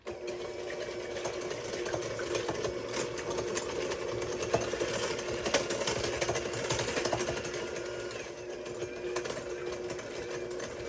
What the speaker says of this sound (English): whip the egg whites until it's nice and foamy and it gets to stiff peaks